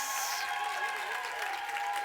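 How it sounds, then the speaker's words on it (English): Seated event audience breaks into sustained applause for a speaker's colleague, an even, continuous wash of clapping hands with a voice faintly woven through it. "can we give Brian Cummings a round of applause?"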